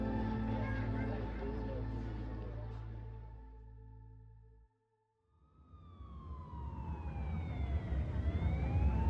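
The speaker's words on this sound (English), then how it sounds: "Sirens wail in the distance, but Claire hears nothing." Emergency sirens wail from a street scene, rising and falling tones that fade out, drop to near silence, then swell back louder with a clear pitch sweep, with a voice narrating over them.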